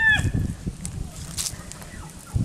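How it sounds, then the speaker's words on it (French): Leghorn hens clucking and calling nearby, a few short chirpy cackles over soft rustling and scattered low bumps. "Là, c'est mes poules Leghorn."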